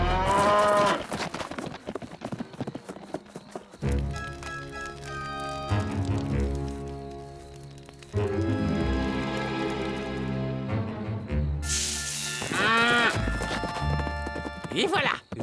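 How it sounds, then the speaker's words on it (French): A cartoon cow in a Lucky Luke Western gives loud, drawn-out moos at the start and again near the end, with clip-clopping horse hooves and brassy orchestral music in between. "Et voilà, une vache volée"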